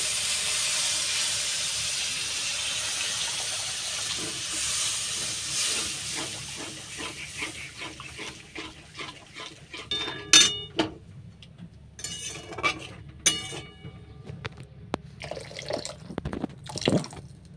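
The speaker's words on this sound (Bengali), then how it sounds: "সমস্ত মশলা বেশ ভালো করে কষিয়ে নিয়েছি এইবার পরিমাণ মতো জল দিয়ে দেব জল" Water poured into a hot pan of spiced fish curry with aubergine, a broad steady hiss and sizzle giving way to bubbling, clinks and a few sharp drips and splashes near the end, with no speech.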